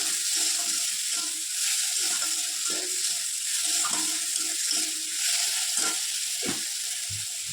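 Food with turmeric and salt fries in a pan, a moderate steady sizzle with occasional light scraping and stirring clatter.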